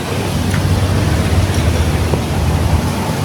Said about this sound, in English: It's so unbelievably windy right now.